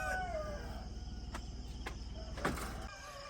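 Young RTL chickens on a Philippine farm just after delivery, a flock chirping and calling continuously at close range, with a few sharper cries standing out over steady low background noise.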